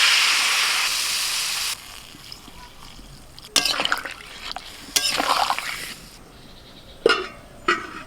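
Water poured into a hot pan of spiced stem and potato pieces, starting with a loud hissing sizzle that fades, followed by several bursts of splashing and stirring at close range.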